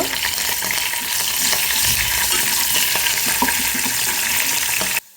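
A tempering with asafoetida frying in a pan, a loud dense sizzle with stirring scrapes and clinks running steadily for about five seconds before cutting off abruptly.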